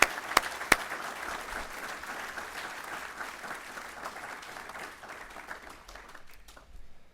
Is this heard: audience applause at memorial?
yes